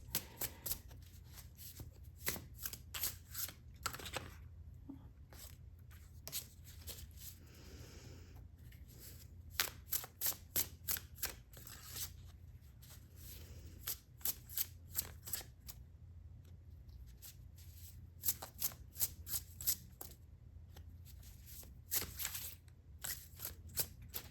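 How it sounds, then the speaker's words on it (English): A deck of tarot cards being shuffled close by, with rapid bursts of crisp riffling and flicking that come in irregular clusters separated by short pauses. "got another deck here. Going to pull just a few more cards."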